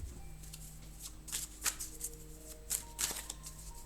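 Arcanum tarot cards are shuffled by hand up close, giving soft papery riffles and sharper flicks in irregular bursts over a low hum, with no talking.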